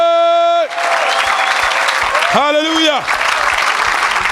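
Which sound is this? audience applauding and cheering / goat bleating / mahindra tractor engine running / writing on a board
audience applauding and cheering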